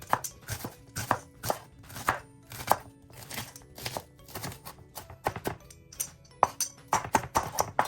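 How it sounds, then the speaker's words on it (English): A knife chops an onion on a cutting board in a home kitchen: crisp, rapid thuds in quick bursts with short pauses between runs, close and clear with no talking. "So I'm just going to chop up an onion now."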